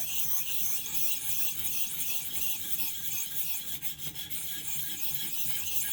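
A knife blade drawn steadily across a ViperSharp sharpener, producing a continuous close raspy rubbing and filing hiss with no pauses and no talking.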